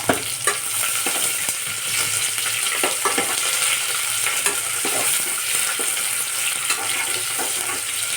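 Onions and curry leaves fry in hot oil, a continuous close sizzle broken by repeated scraping strokes of a spoon stirring through the pan, each stroke crisp and bright.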